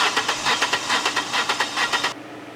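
A four-cylinder engine with low compression on one cylinder is cranked by the starter. It gives a loud, steady, uneven rhythmic churning with no voices, then cuts off abruptly near the end.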